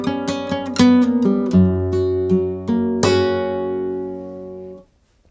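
A flamenco guitar plays a melodic soleá phrase, plucked notes ringing over sustained bass, with a strummed chord near the end that rings out and fades to silence, close and alone.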